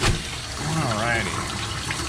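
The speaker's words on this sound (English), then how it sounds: "Crank it up to the hot water. Rinse it with that hot water." Hot water gushes from an indoor tap to rinse a tie-dye T-shirt, a steady close splashing flow that swells and dips slightly over a couple of seconds, with no talk over it.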